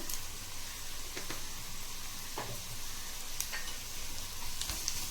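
Everest hing (asafoetida) added to a pan while making vegetable sambar, giving a faint steady sizzle with small ticks and clicks and no talk over it.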